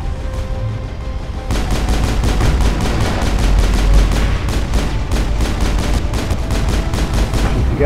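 Combat in Mass Effect, during the assault toward the finale: a steady, fast rhythm of loud gunshots begins after a brief lull and continues unbroken over a dense background rumble.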